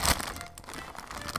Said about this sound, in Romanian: Deschidem punga.